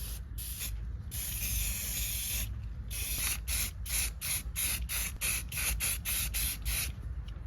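Aerosol paint hisses in a long burst and then a rapid run of short, even sprays, close and loud, as a cleaned transmission pan from a 2015 Mazda 3 gets a fresh coat, with no talking.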